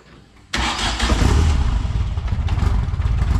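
A Ford Fiesta's Zetec turbo engine cranks and catches abruptly, then runs loudly at close range with a rough, pulsing rhythm.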